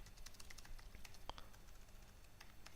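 Typing on a computer keyboard while entering a name during a Linux install setup: steady, fairly quiet patter of key clicks for a few seconds, with one sharper click standing out, no talking.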